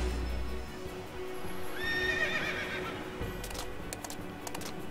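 A horse neighs and whinnies in Final Fantasy XIII, with clip-clopping hooves underneath, the whinny rising loud in the middle of a steady game soundtrack.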